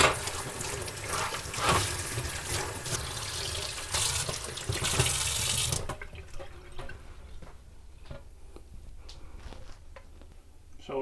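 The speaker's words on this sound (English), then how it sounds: "I'm gonna first wash some of the slime off." Close, loud tap water pours steadily into a sink while a salmon or rainbow trout is rinsed of slime, then cuts off, leaving quieter drips and faint handling sounds.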